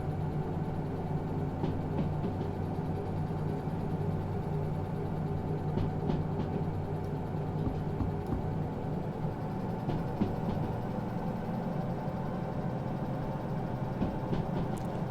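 Train in the Derail Valley video game rolls along a straightaway with a continuous low rumble and engine drone, broken by faint rhythmic clicks of wheels over track joints, steady and unbroken throughout.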